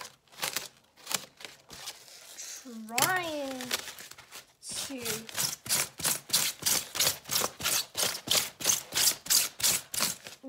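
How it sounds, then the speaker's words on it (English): Scissors snip through trash materials for an art project in a steady run of crisp, rhythmic cuts that speed up toward the end, close and fairly loud, with a voice talking over the earlier part. "Now I'm going to take some scissors and start"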